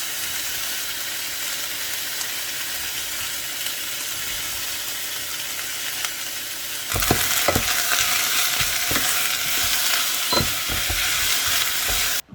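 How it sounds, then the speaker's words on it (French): Onions and bacon lardons browning in olive oil in a pan, with a steady, loud sizzle throughout and then sharper stirring scrapes and crackles joining in partway through. "Mes oignons et mes lards commencent à dorer, je vais verser le reste."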